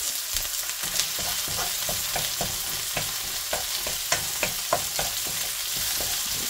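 Onion frying in a pan while pasta is being made, a steady close sizzle broken by scattered stir and scrape clicks of a utensil, with no talking.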